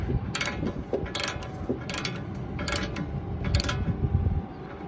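Tie rod being tightened on a Lexus IS300, a run of quick metallic ratchet clicks in short bursts, close and fairly loud, with no speech.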